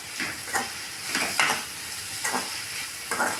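Chutney ingredients such as curry leaves sautéing in a hot pan, a steady sizzle with several sharper crackles and stirring scrapes coming in bursts, close and fairly quiet.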